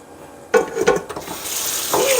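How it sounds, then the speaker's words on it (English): Cold tap water runs over beef bones in a kitchen sink, splashing and gurgling in uneven bursts that swell into a steadier stream toward the end. "Give them a cold water rinse."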